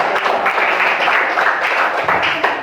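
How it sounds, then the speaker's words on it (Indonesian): Applause from a classroom of students for a student group, a steady dense patter of many hands clapping together at close range, filling the room with no voices standing out. "kita kasih tepuk tangan untuk"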